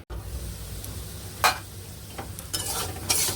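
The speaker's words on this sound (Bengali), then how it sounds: "এদিকে আলুগুলো ভাজা হয়ে গেছে" Potatoes frying in oil in a kadai, with a soft continuous sizzle and a few brief scrapes and stirring clinks, quiet and close, no voices.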